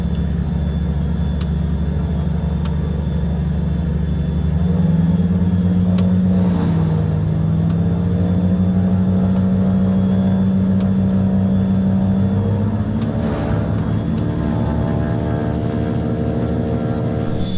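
Twin engines of a Cessna 421C Golden Eagle during takeoff, a loud continuous propeller drone that climbs in pitch as power builds, heard from inside the aircraft.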